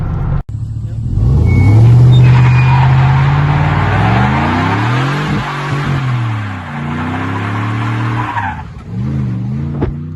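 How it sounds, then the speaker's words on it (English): A Chevrolet Silverado truck fitted with a cold air intake does a burnout, its engine roaring loud and close with a sustained tire squeal and shifting revs over about eight seconds, then easing off. "It's a good burnout."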